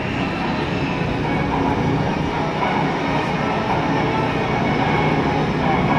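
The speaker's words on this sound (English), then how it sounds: "As the pilot makes his 130-knot approach to the narrow carrier landing area" A Navy E-2 Hawkeye turboprop making a 130-knot approach at the 2005 NAS Oceana airshow, a loud, steady roar droning unbroken throughout, with no clear voices.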